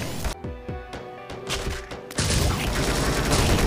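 A deployed turret fires in the Dead Ahead Zombie Warfare video game. A series of sharp, evenly spaced shots rings out, then gives way to dense, continuous gunfire and crashing noise.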